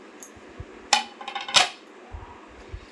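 A plate is handled with a few sharp clinks and clatters, two louder knocks standing out among soft taps and rustles, close and with no talk.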